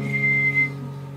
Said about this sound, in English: I'm still learning how to whistle, so I only got two notes.